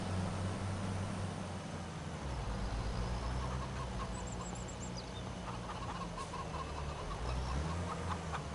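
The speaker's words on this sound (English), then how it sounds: "My chickens are fearless, aren't they?" Chickens cluck and gobble-like fowl calls rise over a steady noisy outdoor bed on a farm in the video game Farming Simulator 25, scattered short calls, moderately loud, without speech.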